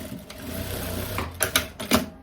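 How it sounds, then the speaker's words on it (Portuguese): A sewing machine stitching a strap by elastic, running with a steady mechanical whir and then a few short bursts of stitching at the end, close and clear. "costura."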